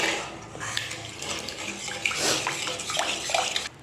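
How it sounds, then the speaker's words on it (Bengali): Water pours into a pan of cooking egg curry, a steady splashing gush for several seconds, close and fairly loud with faint utensil clinks. "এবার আমি কিন্তু জল দিয়ে দিই।"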